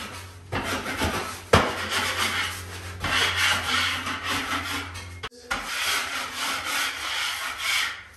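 A sharp blade scrapes excess drywall compound off a wall in long, loud, rasping strokes, with short pauses and small knocks between passes.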